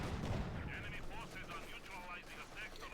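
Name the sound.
gunfire in the video game Company of Heroes 2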